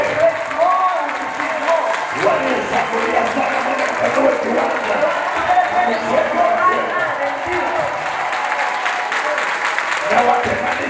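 A church congregation keeps up a broad wash of clapping and crowd noise, while a preacher talks loudly over it the whole time.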